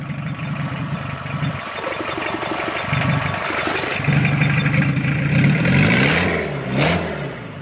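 A used car's diesel engine cranks and catches, then settles into a steady, close, rough idle with a low knocking clatter that rises slightly in level toward the end, with no voices.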